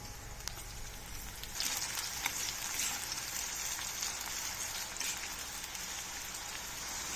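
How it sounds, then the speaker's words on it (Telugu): Bitter gourd pieces fry in hot oil over a medium flame, a dense steady sizzle with a crackly hiss throughout, close and loud, with faint stirring knocks. "ఇలా కలుపుతూ ఫ్రై చేయాలండి"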